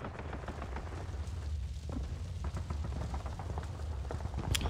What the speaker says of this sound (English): I was getting shot at while I was bombing.